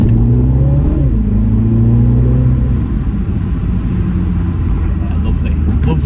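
A Mini Cooper JCW engine, heard from inside the car with a window lowered, drones low and steady, its pitch climbing briefly as it revs before settling into a continuous rumble under road noise.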